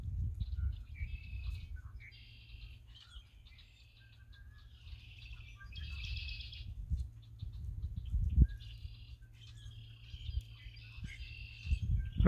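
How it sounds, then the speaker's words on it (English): Springtime birdsong from red-winged blackbirds and grackles along a creek, with repeated bright chirps and calls in short bursts over a steady low outdoor rumble. "So there's red-winged blackbirds, I think, and grackles."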